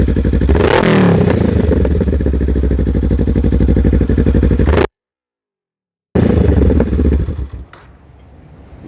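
Engine of a 2020 Honda Rebel 500 motorcycle revving hard and loud up close, a rising roar with a brief sharp surge, then a sudden silence before the engine resumes and settles into a lower grunting idle with pops.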